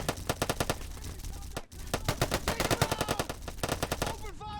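Rapid machine gun bursts in a zombie checkpoint battle in the Call to Arms war game, loud and dense, with several guns firing at once and a short pause near the middle before the fire resumes.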